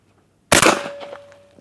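A Mossberg 940 JM Pro camo shotgun fires a single slug, one loud sharp blast after silence followed by a decaying echo.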